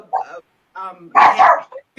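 A small dog yips and barks in short bursts at close range, a few quick sharp barks with brief gaps and a whimpering tone.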